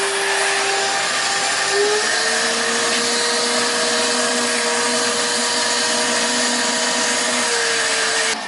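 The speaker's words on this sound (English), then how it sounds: "We're gonna just vacuum it out now." A vacuum cleaner runs steadily and close up inside a car interior, a continuous whining drone with a shifting pitch, holding constant for the whole stretch.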